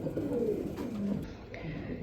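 Pigeons coo softly at a pigeon market, a few low rolling calls close by in quiet surroundings.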